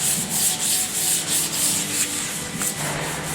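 Steady back-and-forth hand sanding of gloss paint before priming, a close, loud rhythmic scraping rub repeating about every quarter second with no talking.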